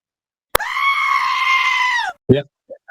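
Goat scream sound effect, one loud sustained bleating scream of about a second and a half, followed by short bursts of voices.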